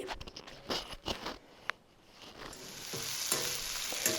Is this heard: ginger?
yes